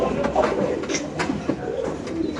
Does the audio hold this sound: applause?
no